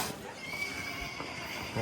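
Among cold-blooded Polish draft horses heading back to the stable, a horse gives a clear, close neigh, with soft hoof clopping and nearby people talking.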